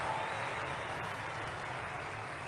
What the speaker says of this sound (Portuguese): O público ergue-se para aplaudir.